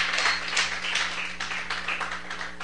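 A church congregation claps and applauds together during a Spanish-language sermon, a dense continuous patter of hands filling the room at moderate loudness with no speech over it.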